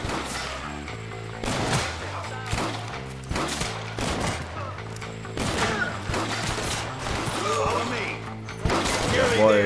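Shotgun blasts in the Western video game Red Dead Redemption on PS3, several loud booming shots scattered through busy game action with music and other gunfire-like bangs.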